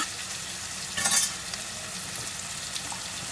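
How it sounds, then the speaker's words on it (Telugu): Chicken fries on a high flame with a constant sizzle and crackle, a brief louder burst of spitting or scraping near the middle, and light stirring noises, no talking. "చికెన్ అనేది మంచిగా హై ఫ్లేమ్లో ఫ్రై అయితే చేసుకుంటామంట"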